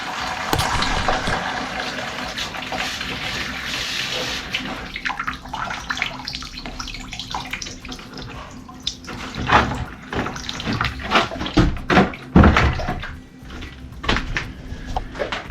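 Bathroom tap being opened during a remodel, with water rushing and splashing into a basin, followed by clunking knocks and handling sounds nearby, loud and close.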